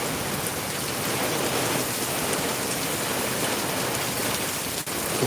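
Heavy rain pours down in Darbhanga, a dense, loud, unbroken hiss of drops striking surfaces, steady throughout with no voices.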